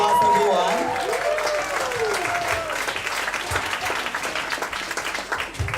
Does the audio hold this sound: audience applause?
yes